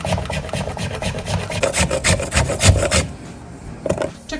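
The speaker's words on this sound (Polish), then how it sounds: "Czekoladka starta" Steady rapid rasping as chocolate is rubbed against a grater, a close, continuous scratchy scraping that thins out near the end.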